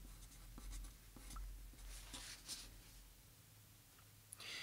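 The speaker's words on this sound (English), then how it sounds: "along this guideline, let's write 3 inches down" Pencil writing on pattern paper for a basic bodice front draft, close soft scratchy strokes in short bursts with faint taps, no talking.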